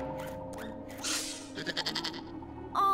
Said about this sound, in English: The baby mountain goat is down there.